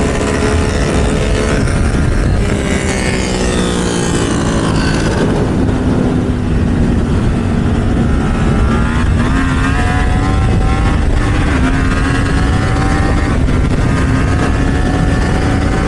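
A loud motorcycle fitted with an aftermarket VT25 exhaust roars continuously, its pitch rising and falling as it revs and shifts, with a raspy, throaty exhaust tone throughout.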